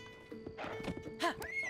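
A horse in Zelda: Tears of the Kingdom gives a short, quiet whinny with a hoof clop or two, a brief game sound effect with no talk over it.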